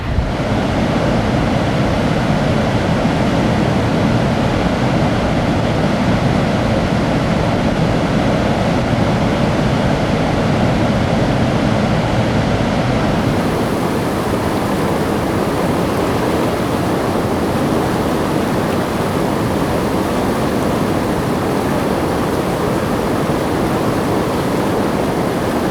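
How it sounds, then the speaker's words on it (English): Dettifoss waterfall in Iceland, 40 meters high and 100 meters wide, roars as a dense, unbroken wall of loud rushing water, with wind buffeting the microphone throughout. "So what we have here is the Dettifoss waterfall, 40 meters high and 100 meters wide"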